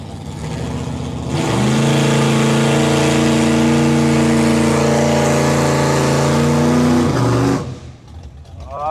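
A car engine at a drag racing event revs hard and climbs to a loud, sustained high-RPM roar with steadily rising tone, holds for several seconds, then drops off sharply as the throttle is released.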